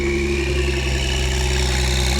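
Car engine with turbo-style whistles, sounding like a diesel truck, at a fairgrounds car show: a loud, steady, rumbling idle with high whining tones held on top.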